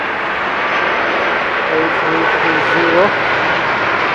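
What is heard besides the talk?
large airliner approaching to land in fog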